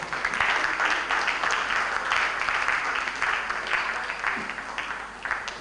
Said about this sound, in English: Put your hands together for her.